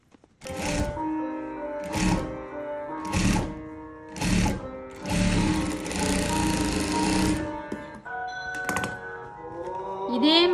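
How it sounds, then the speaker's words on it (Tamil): A sewing machine stitches the facing of a gown in five short, evenly spaced bursts and then one longer continuous run, close and steady, with a voice talking. "நான் வந்து இந்த ஃபேஸிங்கில் மட்டும் தையல் விழுகிற மாதிரி தைச்சிட்டு அங்கால் பக்கம் மடித்து விட போகிறேன்"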